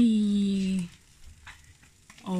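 Food sizzles on a Midsummer barbecue grill in Sweden, a soft crackling hiss between stretches of a voice talking loudly at the start and end.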